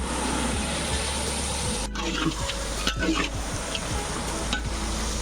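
Duck meat curry frying in a pot as large leg and meat pieces are stirred. A steady sizzle runs throughout, with several scraping stir strokes and no talking.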